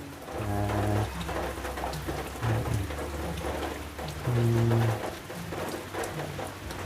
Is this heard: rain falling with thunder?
yes